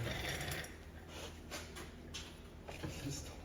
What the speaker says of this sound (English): then we'll tighten up that jam nut